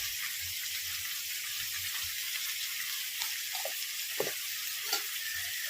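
Potato, eggplant and drumstick pieces fry in hot oil with salt and turmeric, giving a steady, close hiss with a few soft stirring clinks and pops, and no voices.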